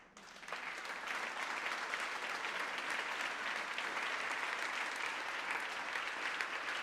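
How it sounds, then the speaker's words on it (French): Steady, dense applause from a large audience at a women's conference event in France, rising quickly and holding a full, even wash of clapping throughout without talk. "Applaudissez-la."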